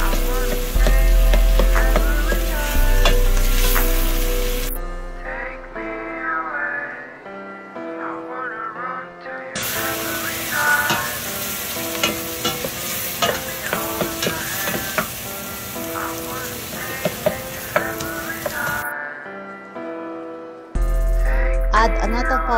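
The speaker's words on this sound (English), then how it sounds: "Put oil first and add the garlic and onions and mix together" Garlic and onions frying in oil in a pan while being stirred, a steady sizzle running under music with brief quiet gaps, no speech heard.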